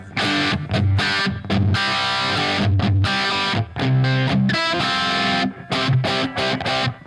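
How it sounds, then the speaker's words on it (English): Electric guitar driven through a Josh Smith version of the Rat distortion pedal with slapback tape echo, loud, gritty chords and phrases in bursts separated by short gaps. "What you're hearing here, a little slapback tape echo"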